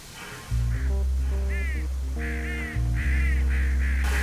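Harsh crow caws repeat several times over a loud, steady low engine-like drone, with no talking.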